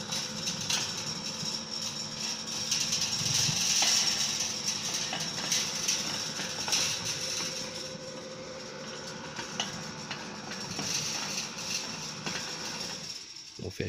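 A sliding gate motor (PPA DZ Rio) hums steadily with a mechanical whir and faint rattling as the gate travels, a continuous moderate drone lasting over ten seconds.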